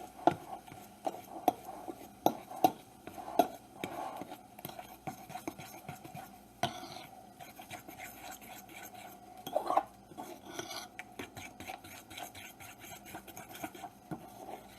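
A utensil stirs German potato pancake batter of egg and flour in a bowl, scraping and clinking against the sides in uneven strokes, with sharp taps early on and steady rubbing later.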